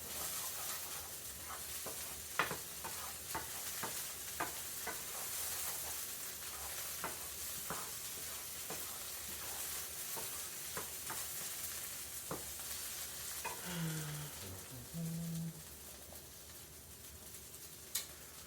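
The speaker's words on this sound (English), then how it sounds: "So I'll cook the onion down" Chopped onions sauté in a hot pan with a steady, bright sizzle, broken by repeated scraping and tapping as a utensil stirs them. Near the end comes a brief low rumbling thump.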